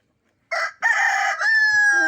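A farmyard chicken sounds off up close, a short squawk followed by a longer drawn-out call that ends in a sustained tone, loud and alone against silence.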